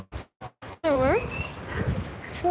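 A puppy at Lantana Beach, Florida, gives three quick, sharp barks, then a rising, wavering whine, close by over steady outdoor background noise.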